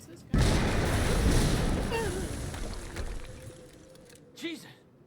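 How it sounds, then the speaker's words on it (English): Warehouse explosion in the game Quantum Break, a sudden loud boom whose heavy roar and debris rumble fade gradually, with a faint voice and a small later burst toward the end. "HQ, we just heard an explosion near the harvesting perimeter."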